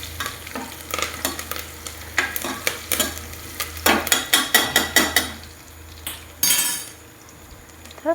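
Curry leaves frying over low gas for garlic rice, a crackling sizzle under a rapid run of sharp metal spoon strikes and scrapes against the pan, louder in the middle, then a brief hiss burst and quieter frying.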